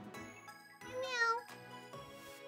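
A cat meows several times in short separate calls, close and clear, with a rising, wavering cry in the middle, in a room during play of Ring Fit Adventure.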